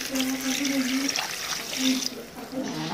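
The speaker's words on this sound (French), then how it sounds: "Là, je vais rajouter de l'eau." Water poured into a cooking pot holding a lamb head and vegetables for couscous sauce: a loud, close, continuous gushing splash lasting a couple of seconds, with a brief spoken word over it.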